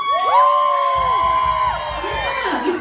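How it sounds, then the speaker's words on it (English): A Japanese concert crowd screams and cheers loudly in a sustained roar of high shrieks and whoops, with a pulsing beat of music underneath. "Let me hear you scream."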